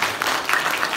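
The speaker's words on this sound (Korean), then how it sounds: "박수로" Dense applause from a church congregation at an elder ordination service, a brief steady burst of many hands clapping.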